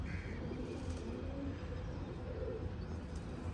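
Pigeons coo softly in a loft, low murmuring calls repeating under a steady background hiss, faint and somewhat distant.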